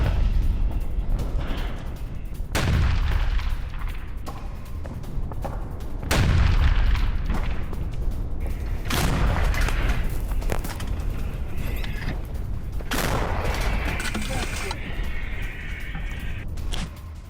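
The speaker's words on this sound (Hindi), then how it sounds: "रूसी आर्टिलरी ने की है भारी गोलाबारी।" Russian artillery shelling on the Ukrainian front near Avdiivka: several heavy booms arrive at irregular intervals, each a deep blast rolling out over a constant low rumble of the battlefield.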